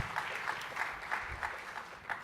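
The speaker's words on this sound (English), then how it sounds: "So a big round of applause for our next panel." A conference audience applauds as a panel on debt, tax reform and economic growth is welcomed, producing soft, moderately distant clapping that swells and eases in a gentle rhythm throughout.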